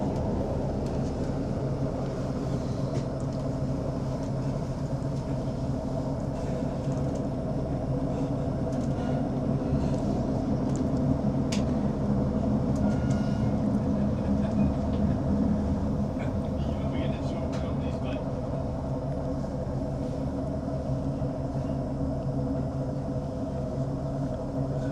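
A ScotRail Class 156 diesel multiple unit running through the Nith Valley between Dumfries and Glasgow, heard from inside as a steady engine drone and rumble of wheels on rail, continuous and even throughout.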